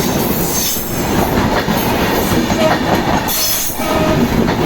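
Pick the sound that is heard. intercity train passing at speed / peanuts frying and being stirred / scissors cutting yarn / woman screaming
intercity train passing at speed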